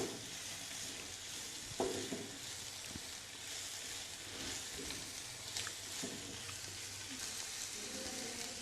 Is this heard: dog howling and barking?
no